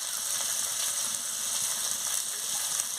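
Murla fish curry with mustard paste, turmeric paste and chili powder sizzles steadily in a pan as it is stirred, giving a constant close hiss with soft scraping, alone without talk.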